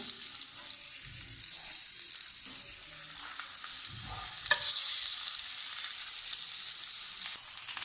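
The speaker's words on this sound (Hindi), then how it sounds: "अब हम अपनी पेठी को ऑयल में रख देते हैं।" A chicken patty frying in hot oil gives a steady, soft sizzle with gentle crackling throughout, fairly quiet and without speech.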